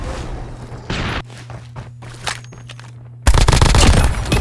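Switchblade gun firing in Call of Duty Mobile: rapid automatic bursts, a short one early and a loud sustained burst at the end, with footsteps and game sounds between.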